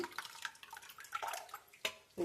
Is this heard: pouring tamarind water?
yes